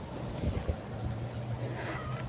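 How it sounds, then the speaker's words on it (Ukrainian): An evening breeze moves through millet grass in a summer garden, heard as a steady, close rush of wind with a low buffeting rumble against the microphone and no voices. "От зараз піднявся надвечір вітерець і трави додають динаміки в саду."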